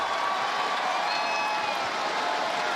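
A crowd at a Rainbow Six Siege Year 8 presentation reveal cheers and claps, a continuous, dense roar of excitement that holds steady throughout.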